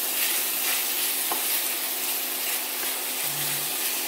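Pork stir-fries in a pan with gochujang and chili powder, giving a steady close sizzle and crackle throughout with a few soft stirring scrapes.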